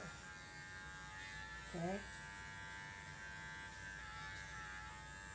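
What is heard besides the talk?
electric clippers trimming Cocker Spaniel's face hair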